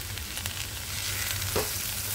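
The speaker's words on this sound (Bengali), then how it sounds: "একটু আলু পেঁয়াজ দিয়ে কাঁচা লঙ্কা দিয়ে একটা ভাজা করছি আজকে রাত্রের জন্যে" Potatoes, onion and green chili fry in a pan, a close, steady sizzle with light scraping stirs and a brief utensil tap, no talk.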